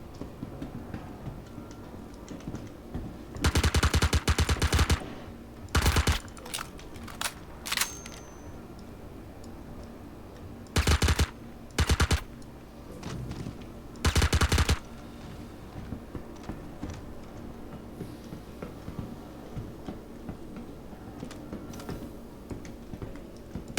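Automatic weapon fire in the Star Citizen FPS bunker mission, several loud sharp bursts of rapid shots spaced apart, over a quiet background of faint clicks and typing-like taps.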